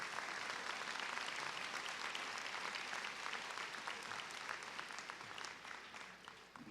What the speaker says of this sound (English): Another round of applause to Associate Professor Cherry.